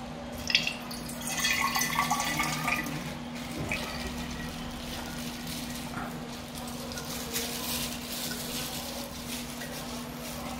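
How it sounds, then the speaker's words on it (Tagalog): Water trickles and drips steadily into a tumbler of strong homemade juice, a faint continuous pouring sound close by over a low hum, with no talking. "alagyan ko ng tubig kasi feeling ko masyado siyang matapang."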